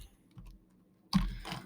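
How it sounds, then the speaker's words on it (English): Typing on a computer keyboard while writing Java code, a few soft key taps early on, then a quick close burst of keystrokes near the end, with no talking. "as soon as I start typing in front of a camera, then I start typing slow"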